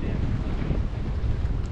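Steady wind rushes and buffets the microphone by the waterfront in Rockport, a continuous loud roar with no pauses.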